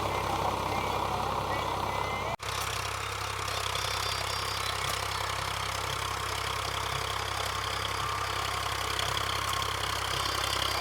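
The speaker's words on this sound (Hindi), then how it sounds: "आजकल खेतों में ऐसे ट्रैक्टर से बुआई करते हैं" A tractor engine drones steadily in a field while it sows wheat, a continuous mid-pitched rumble with a brief dropout early on and no talking over it.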